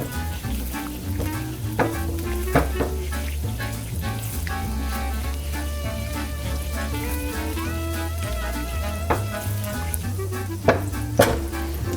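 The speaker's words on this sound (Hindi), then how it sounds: "यहाँ पर अब हम ये चिकन ऐड कर रहे हैं और इसको अच्छा सा टेंडर होने तक पकाएंगे।" Chicken pieces frying in melted butter with a little oil over medium-high flame, a steady loud sizzle and crackle running throughout with occasional stirring clatter and sharp pops.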